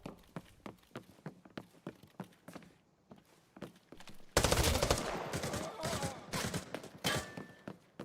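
Video game gunfire: sharp isolated shots and footsteps at first, then a loud dense burst of rapid shooting and explosions that keeps crackling in bursts.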